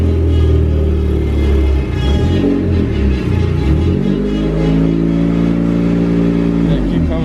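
A car engine revs and rumbles steadily up close as the vehicle pulls into a garage on a cold winter day, with voices talking over the engine noise.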